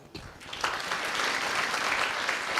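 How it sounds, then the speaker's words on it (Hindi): Steady applause from a student audience at an induction session rises quickly and continues densely, a wash of many hands clapping at once. "इसका मतलब हुआ कि खुद के लिए ताली बजाओ"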